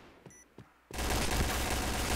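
Gunfire in the video game Point Blank, during a bomb-defusal round: a few faint clicks and pops, then a sudden, dense burst of loud, continuous shooting that keeps going to the end.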